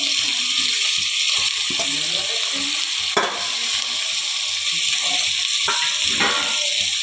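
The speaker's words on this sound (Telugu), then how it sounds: "మంచిగా మటన్ని కూడా వేయించుకోవాలి ఫ్రెండ్స్." Mutton frying in oil with onion and turmeric in a pot for a curry, a loud steady sizzle with occasional scraping stirs and ladle clatter.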